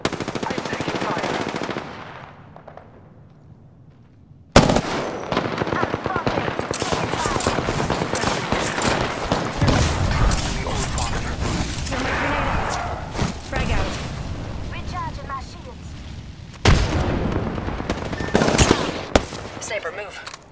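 Rapid automatic gunfire from the video game Apex Legends, loud and close, fired in long dense bursts with a brief lull before the shooting resumes heavily, voices speaking over the action.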